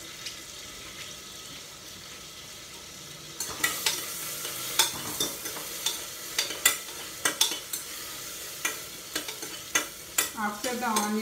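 Onions frying in a pan, starting as a quiet background hiss, then brighter sizzling joined by repeated sharp scraping and stirring knocks of a spatula, fairly close.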